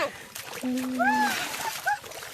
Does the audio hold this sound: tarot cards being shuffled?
no